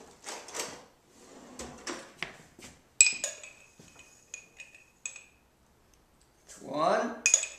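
A tablespoon being pulled from a kitchen drawer, with a series of bright metallic clinks and rattles of cutlery, quiet and close, followed by a short soft scrape.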